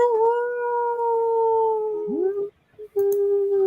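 A person imitates a wolf howl, holding one long sustained wavering tone that bends down near its end, breaks off, then resumes briefly.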